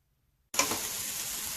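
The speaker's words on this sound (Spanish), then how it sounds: "ponemos a sofreír ahí la cebolla, chile dulce, Tomates." Onion, sweet pepper and tomatoes hitting a hot pan for a sofrito: silence, then a sudden loud hiss that settles into a steady, close sizzle, with no speech.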